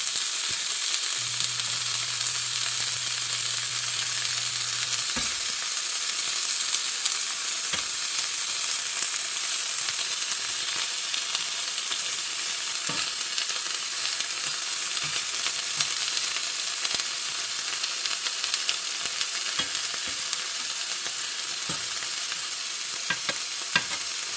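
Precooked ham crisping in a Smithey Farmhouse cast iron skillet, a continuous loud sizzle and hiss with scattered pops and crackles, no talking.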